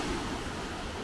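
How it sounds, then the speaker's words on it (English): Ocean waves crash on the beach at Laguna Beach in a steady, loud wash of surf that fills the whole moment with no voices. "the waves are crashing"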